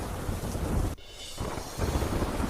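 Heavy downpour with thunder in Dang district, a steady loud roar of rain hissing across the surface, broken by a brief drop before a rumbling surge returns, with no voices.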